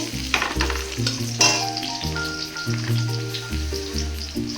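Reddened onions fry in a pan as cashews are added, a continuous sizzle under steady tonal background music, with no talking.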